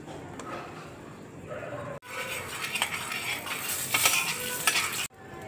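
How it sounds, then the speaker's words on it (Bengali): Ground chilli, turmeric, coriander and cumin fry in hot oil while being stirred, giving a dense, hissing sizzle with scattered utensil scrapes and clinks, close and steady with two abrupt breaks. "তেল দেখো গরম হয়ে গেছে। এবার আমি লঙ্কা গুঁড়ো দেখো দিয়ে দিচ্ছি, হলুদ গুঁড়ো দিয়ে দিচ্ছি"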